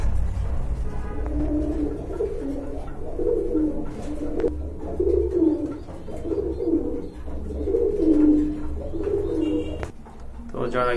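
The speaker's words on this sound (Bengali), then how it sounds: "এই টাইপের বা এই কালারের কবুতর কিন্তু তেমন একটা দেখা যায় না।" Giribaz pigeons coo in soft, repeated rolling phrases close by, a steady low burbling chorus that goes on throughout, with someone talking over it.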